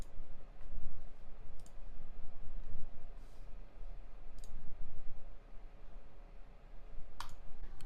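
Sharp mouse clicks on a browser tab, a handful of isolated ticks spaced irregularly over a steady low room hum, close and crisp, with no talking.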